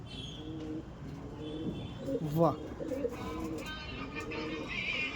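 An old racing pigeon gives a short, close cooing call in the middle, a brief rolling coo amid other soft pigeon sounds, with people talking around it.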